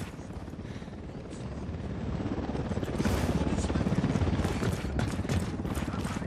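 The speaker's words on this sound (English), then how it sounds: "Helicopter, get down." A helicopter in Ghost Recon Wildlands, its rotor thumping steadily and growing louder as it draws closer, with gunfire and combat noise mixed in.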